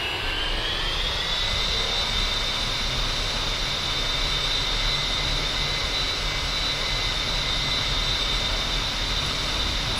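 A-10C jet engines in the DCS flight game spool up for takeoff, a steady loud roar with a high whine that rises in pitch over the first seconds and then holds constant throughout.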